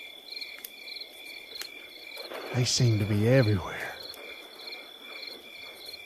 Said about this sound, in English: They were pitch black and silent, save for the loud crickets.